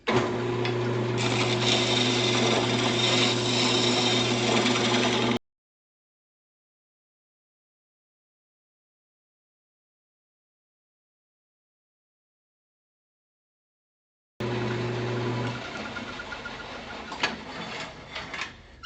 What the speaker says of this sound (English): I'm just going to get this plate faced off here so I can start gluing segments onto it.